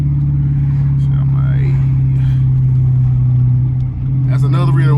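A Dodge Challenger R/T with straight-pipe exhaust pulls through traffic, giving a loud, steady, deep droning rumble heard from inside the car, with a brief dip and the engine note rising again near the end, while people talk over it.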